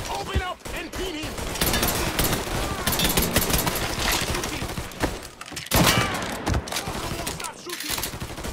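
Dense gunfire in the video game Mafia 3, with rapid overlapping shots, bursts of automatic fire and impacts in a chaotic continuous fusillade, while voices shout amid the shooting.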